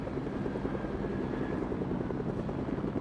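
Helicopters flying in a shooter video game hold a steady whirring rotor beat that stays constant and moderately loud for the whole stretch, with no speech over it.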